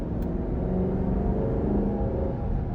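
A 2023 Dodge Durango R/T Blacktop with a 5.7 liter V8 hums under steady cruising, a low continuous engine and road rumble heard from inside the cabin, without talk.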